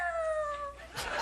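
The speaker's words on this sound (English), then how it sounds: "A cat." A cat meows once as a short, drawn-out tonal cry, close and fairly loud, followed by a brief noisy burst; a farm sound effect with no talking.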